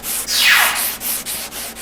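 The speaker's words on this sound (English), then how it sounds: "So when we start sanding," A sanding block rubs back and forth over guide coat on a Ford truck body panel during bodywork, steady loud close strokes repeating in an even rhythm with no talk.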